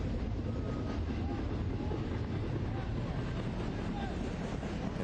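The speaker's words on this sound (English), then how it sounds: "Train chugging along in the background of Starfire Sports Stadium" A train rumbles steadily past Starfire Sports Stadium during a soccer match, a continuous broad low rumble with faint clatter, mixed with crowd and wind noise.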